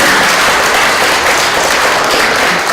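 A conference audience applauds, a loud, dense wash of many hands clapping continuously and evenly, close and full for a few seconds with no talk over it.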